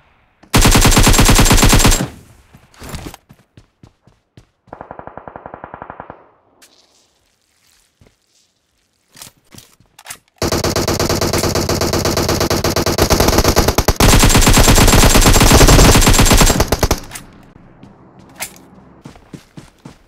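Automatic gunfire in a battle royale video game, firing in loud sustained bursts separated by short gaps, with a long continuous stretch of rapid shots midway and mechanical clatter between volleys.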